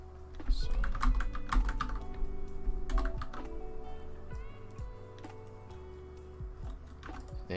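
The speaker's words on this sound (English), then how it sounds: "now we need to type out go to with the space" Keys clatter on a computer keyboard in quick irregular bursts, dense at first and then sparser, close and fairly soft against a low room hum.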